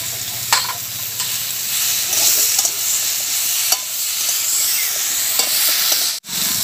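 Vegetables lightly frying in a pan with salt and turmeric, a steady close sizzle with repeated stirring scrapes throughout, a brief dropout near the end.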